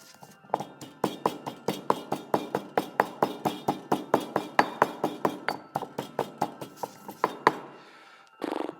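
A garlic clove and salt being ground to a paste, a fast, regular series of sharp pounding knocks, about three or four per second, close and clear, easing off at the end before a short burst of other noise.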